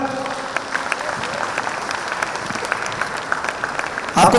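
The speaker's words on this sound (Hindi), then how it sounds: "दरभंगा टीम थोड़ा ताली जोर से हो जाए एक बार।" Audience applause from the Darbhanga team at a business conclave, a steady wash of clapping from many hands that swells louder at the very end.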